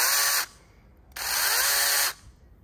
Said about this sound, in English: that's the 5-inch Kebtech chainsaw